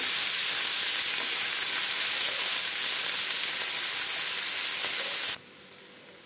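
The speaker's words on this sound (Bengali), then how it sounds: "দিলাম পেঁয়াজ, পেঁয়াজ কুচি দিয়ে এবার নাড়াচাড়া করব।" Chopped onions hit hot oil that has been lightly salted, producing a loud, steady sizzle and hiss that continues without a break and then drops off abruptly near the end, with no voices.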